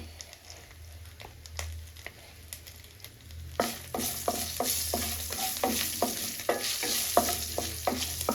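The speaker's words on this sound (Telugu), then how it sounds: "ఇప్పుడు తాలింపు కూడా రెడీ అవుతుంది" Quiet stirring at first, then loud crackling sizzle of a tempering of chana dal, mustard seeds, cumin, curry leaves and garlic frying in oil, with regular scraping strokes, close up.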